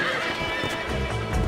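A stallion whinnies in the Western video game Red Dead Redemption, a loud, close, wavering neigh running through the whole moment, with a scuffle of hoof thuds underneath toward the end.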